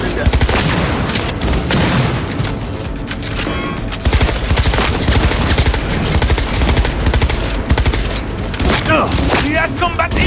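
Continuous gunfire from a Cyberpunk 2077 shootout during an Arasaka infiltration, dense automatic bursts and booms filling the whole stretch, loud and close, with shouted voices mixed in.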